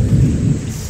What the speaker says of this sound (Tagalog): lakas yung dalugdog.